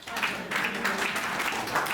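An audience applauds at a Hindi comic poetry recital: a steady, dense wash of clapping that lasts the whole moment, moderately loud, with a faint voice mixed in.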